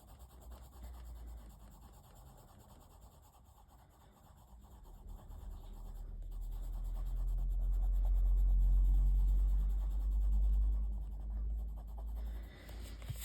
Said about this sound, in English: I will just put it in with a pencil myself.